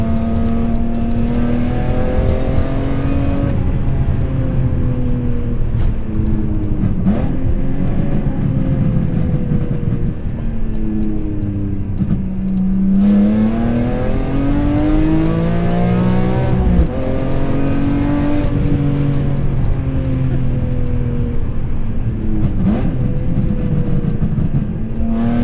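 A BMW M3 with its S54 engine revs repeatedly through the exhaust, the pitch climbing and falling in loud, continuous waves with occasional pops, heard from close by without talk.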